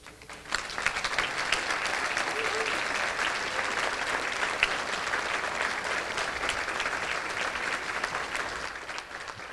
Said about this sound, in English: ask the Teachers of the Years to please stand again so we can applaud you